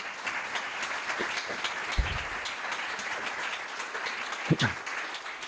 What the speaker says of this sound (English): Big round of applause for all of our superintendents.